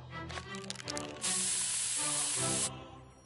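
A loud, steady pepper spray hiss from South Park: The Stick of Truth video game, bursting in after brief game sounds and running over a second before cutting off.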